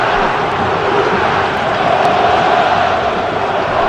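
São Paulo fans at Morumbi stadium chant Lucas's name during a São Paulo versus Novorizontino match, a dense, loud, continuous wall of crowd voices roaring throughout without a break.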